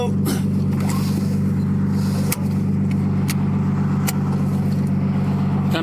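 A Nissan R33 fitted with an ISR Performance downpipe and Tomei Expreme Ti test pipe idles loudly and steadily nearby, its rumbling exhaust drone with a few sharp pops and clicks, and people talking over it.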